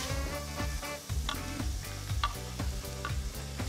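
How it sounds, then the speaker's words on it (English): Bacon and onion fry in a little oil in a fry pan, a close steady sizzle with scattered sharp crackles and pops. "I'm just going to heat my fry pan here with a little bit of oil to cook off the bacon and the onion"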